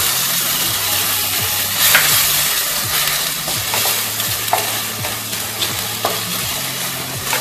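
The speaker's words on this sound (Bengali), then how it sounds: "পেঁয়াজ রসুন ভালোভাবে ফ্রাই করে নেব, তার সাথে দিয়ে দিলাম" Onion, garlic and chopped tomato frying in a pan for a Bengali prawn curry, a loud constant sizzle broken by repeated scraping strokes of a stirring spoon, with no talking.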